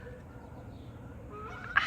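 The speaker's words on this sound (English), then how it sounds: "Geese just flew by." Geese flying past outdoors, faint and distant at first, with a single louder honk near the end over low background rumble.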